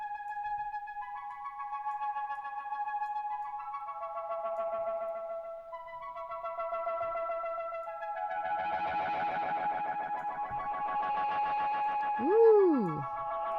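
Synth tones run through Ableton Live's Roar distortion, its amount swept by a sine-wave LFO, so sustained buzzy notes swell and thin in a slow wavering cycle, ending with a brief gliding chirp.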